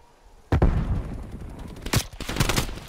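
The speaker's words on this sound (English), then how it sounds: "what the hell is he using? AK-47, really?" AK-47 gunfire in the video game Call of Duty Cold War, a burst of rapid sharp shots starting abruptly, then further clustered bursts and thumps, fairly loud with no talk over it.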